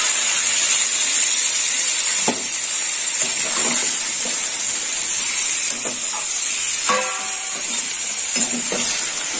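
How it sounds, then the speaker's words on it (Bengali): Water poured into a hot pan while cooking helencha shak sukto, a steady loud hiss and sizzle running throughout with a few brief clinks and stirring sounds, no talking. "এবার জল দিয়ে দেবো, দিয়ে দিলাম জল"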